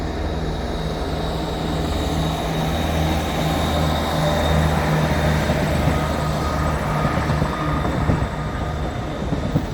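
A train rumbles steadily at Doncaster station, a continuous low drone with broad noise that holds even throughout, with no voices.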